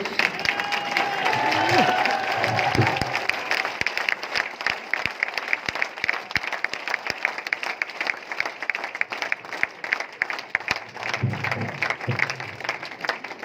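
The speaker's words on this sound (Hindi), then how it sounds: "आप लोग खड़े होकर ताली बजा दिए सब लोग" An audience at a grand success celebration stands and applauds, a dense wash of clapping from a large crowd that swells early then breaks into scattered, sharper individual claps, with faint voices mixed in.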